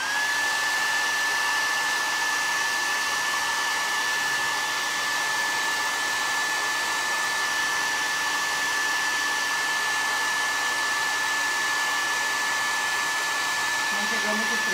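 A hair dryer runs steadily and loudly throughout, blowing on freshly painted decorative wooden plaque to dry the paint, with a constant whine and no talking.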